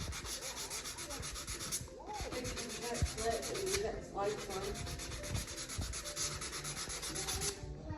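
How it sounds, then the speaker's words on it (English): Steady, continuous rubbing of sandpaper smoothing dried wood filler over nail holes on a wooden floating mantle, close and moderately quiet, with a brief pause in the strokes midway. "Now I'll use a wood filler to fill in all my nail holes, and then I'll sand it off nice and smooth"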